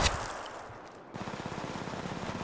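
Gunfire in the mobile battle royale Apex Legends Mobile. A loud burst fades out, and after a short lull a rapid, rattling automatic volley of fairly faint shots follows at a steady rhythm.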